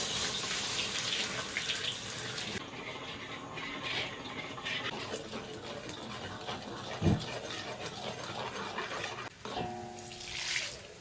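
Water pours and splashes into a pot of beef hooves braising with peanuts, recorded close in a home kitchen, with clanking of cookware and a brief knock partway through.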